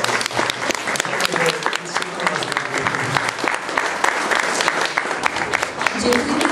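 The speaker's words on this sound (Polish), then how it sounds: "Wielkie brawa dla Pani." A school auditorium crowd at a farewell ceremony for graduating lower-secondary students applauds steadily and loudly for several seconds, with dense continuous clapping and voices mixed in.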